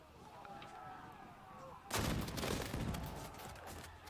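Musket volley in the Field of Glory battle game, a sudden crackling burst of many shots fired together after a quiet stretch of low battlefield ambience, rolling on with distant rumble.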